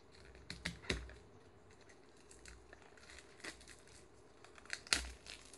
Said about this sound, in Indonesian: Berarti segelnya masih utuh, langsung kita unboxing.